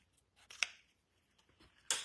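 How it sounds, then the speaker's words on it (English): Scissors trim a knotted ribbon on a handmade baby card, with two short, crisp snips about a second apart against a quiet background. "Did a knot there, we'll trim it off."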